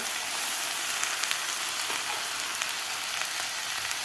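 Vegetables (potato, carrot, tomato, onion) sizzle and sauté in hot ghee for millet khichdi, a steady, bright frying crackle with no talking.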